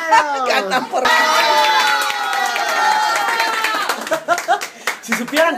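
An audience at a song-competition show claps and cheers, a dense burst of applause mixed with shouting voices that tapers into scattered claps and chatter.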